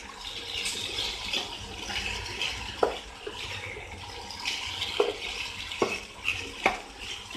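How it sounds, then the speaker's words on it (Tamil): Basmati rice being mixed into masala in a pan, a steady soft scraping and shuffling with a faint sizzle and a few sharper clacks of the spoon against the pan, no voices. "இப்போ இந்த ரைஸை வந்து இந்த மசாலாவோட நல்லா மிக்ஸ் பண்ணி விட்டுலாம்."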